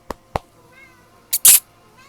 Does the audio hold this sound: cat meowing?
yes